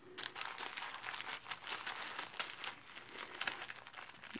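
A paper envelope is opened and handled close up, giving a continuous soft rustle and crinkle with small crisp bursts throughout, fairly quiet and with no voices.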